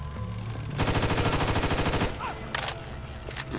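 Rapid burst of MIRV grenade explosions in Fallout 4, a dense rattling cluster of blasts lasting over a second, followed by a few scattered sharper bangs against background game noise.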